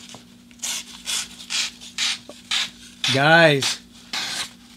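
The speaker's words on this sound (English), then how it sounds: "So sharpening it with the carbide" A kitchen knife is drawn repeatedly through a carbide sharpener, making about eight short rasping strokes in a steady rhythm, close and moderately loud. A brief spoken word interrupts the strokes partway through.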